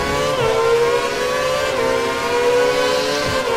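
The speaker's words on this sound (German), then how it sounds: "Oh, sein Motor klingt extrem geil." A Formula 1 car's engine in the racing game F1 2012 at the China Grand Prix holds a loud, steady high-pitched whine for several seconds, with brief pitch drops at gear shifts; no voices.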